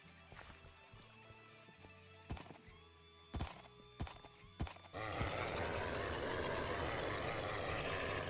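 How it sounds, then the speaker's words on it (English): Several sharp horse neighs and whinnies from the Minecraft Agrarian Skies modpack ring out over the first five seconds, followed by a steady wash of loud game noise that carries to the end. "Horses have spawned."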